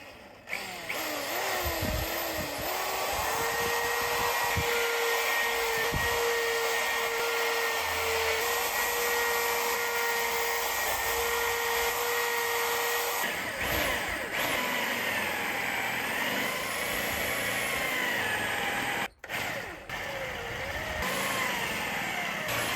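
Power drill running almost without a break as holes are drilled, countersunk and screws driven during reassembly of a large restored wooden chair on a workbench; loud, close, steady whirring with brief pauses and no talk.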